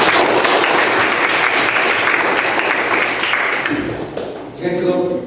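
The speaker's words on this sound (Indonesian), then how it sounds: "tepuk tangan dong" An audience bursts into brisk, loud applause that holds steady and then thins out, with a short ping and voices surfacing as it ends.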